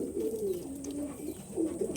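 Pigeons coo softly nearby in low, rolling, repeated calls, a couple of throaty phrases over faint background hum, with no talking.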